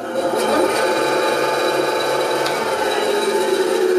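A cheap $20 bandsaw runs steadily with its blade rubbing against the blade guide, a loud continuous mechanical whir with a scraping, rasping edge and no talk over it.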